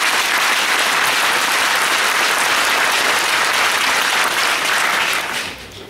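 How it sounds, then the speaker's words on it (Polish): Loud, sustained applause from a large audience at a political election convention in Kraków, steady dense clapping that fades out at the end. "Jeszcze raz gorące oklaski dla niego."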